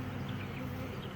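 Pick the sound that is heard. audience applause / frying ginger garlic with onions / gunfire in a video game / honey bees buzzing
honey bees buzzing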